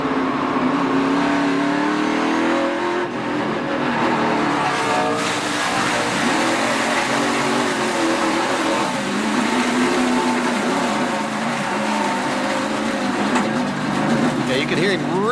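A race car at the 2015 Nationwide Children's Hospital 200 is held at full throttle, a loud, continuous high-pitched engine roar with shifting pitch as it passes and accelerates, dense and unbroken for the whole stretch.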